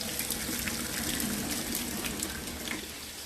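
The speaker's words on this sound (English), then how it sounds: "So I use this to drain them, strain them, whatever." Hot water from boiled potatoes pouring through a kitchen strainer, a steady, fairly quiet rushing splash that runs continuously without pause.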